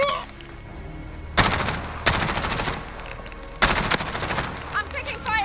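Bursts of automatic gunfire in Call of Duty Modern Warfare, two long loud volleys separated by quieter stretches of game sound.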